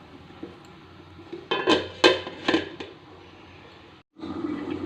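A metal lid clatters down onto a pot of Kolkata-style ghugni with peas and potatoes: a few quick clanks in a row over a low kitchen hum, then a short silence.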